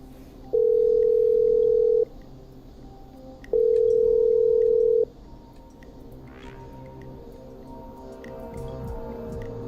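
A phone call to the hospital in the video game Killer Frequency gives two long, steady ringing tones with a pause between them, then a quiet, low background hum.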